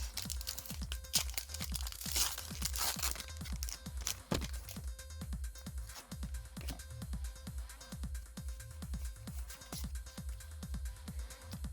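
Foil Pokémon card booster packs are torn open and handled up close, with continuous crinkling and tearing and rhythmic crunching taps.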